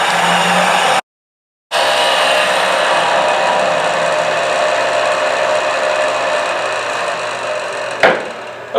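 A lathe tool cutting the top edge of an end-grain hollowed wooden vessel, a steady hissing, whirring scrape broken by a brief pause near the start and a sharp knock near the end, with no talk.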